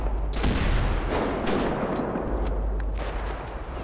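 Video game gunfire during an assassination mission, with a loud burst of rapid shots that blend into a dense volley. The shots fade slightly toward the end.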